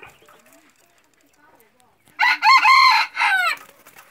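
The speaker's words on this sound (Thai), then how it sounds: "ใครชอบนะครับไก่ผู้เมียนะครับ" A hen-feathered rooster crows once up close and loud, a strong drawn-out call that breaks off at the end, after a near-silent stretch with faint noises.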